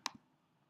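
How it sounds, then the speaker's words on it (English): A single crisp computer mouse click, close and clear, followed by a softer second click a moment later, then near silence. "So I'm just going to click over here and click Measure."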